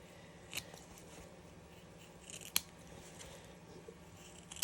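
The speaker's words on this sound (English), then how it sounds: "we're just going to snip off these corners to reduce bulk" Scissors snip the corners off sewn fabric scrap coasters, giving two distinct sharp cuts a couple of seconds apart and a third at the very end, over quiet room noise.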